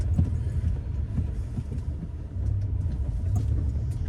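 A 2014 Peugeot RCZ's engine runs while driving, heard from inside as a low, steady rumble with a slight swell partway through, fairly subdued and without talk.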